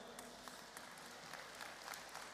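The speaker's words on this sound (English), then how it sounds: "A round of applause for Ben." An audience at a business achievers congress gives faint, distant applause for one of the presenter's students, a soft continuous patter of clapping heard from far off.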